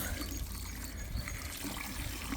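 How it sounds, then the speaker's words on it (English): Water poured into a horse's feed mix in a farm stable, a steady close splashing and trickling stream that runs unbroken throughout with no voices. "We put some water in."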